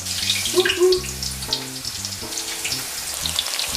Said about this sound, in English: So here's my eggplant frying.